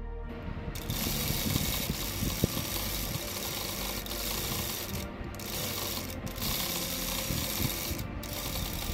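A sewing machine stitches around the open ends of fabric triangles for a simple bag, running as a continuous close mechanical whir with a fine rapid needle rhythm and a few brief pauses, with no speech.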